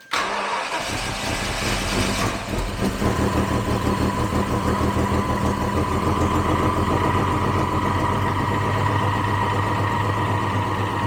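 A V12 car engine, parked for 18 years, cranks, catches and settles into a steady, loud idle, its low rumble continuing without a break.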